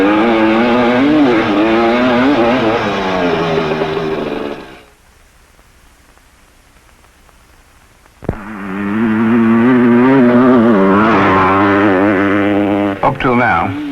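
A 1972 Yamaha DT2MX two-stroke motocross bike roars nearby with rising and falling revs as it shifts gears. The engine drops away for a few seconds before it blasts back in loudly, with a voice talking at times over the engine noise.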